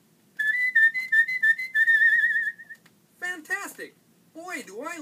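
A steady, wavering whistled melody carries for a couple of seconds, close and clear, before a speaking voice takes over with short animated phrases.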